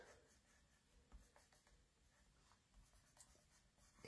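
Blender pens colour in an owl design on a gate fold card, a faint scratchy scribbling in short soft strokes, close and quiet with no talking.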